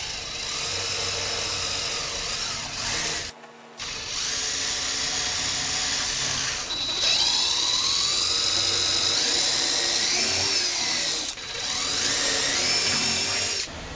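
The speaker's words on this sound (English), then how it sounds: "I'm going to use my larger drill bit" A power drill whirs almost continuously with a large bit boring into wood, pitch rising and falling under load, broken by a couple of brief stops.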